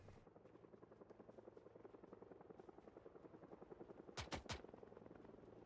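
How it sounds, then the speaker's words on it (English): A helicopter in the Project Zomboid video game, its steady rotor chop running continuously with a rhythmic pulse, joined near the end by a few sharp gunshot-like bursts. "That helicopter's gonna get on us."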